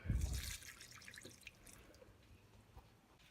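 Water poured onto the top of potted plants trickles and drips down through the layers, a brief splash at first followed by faint scattered drips.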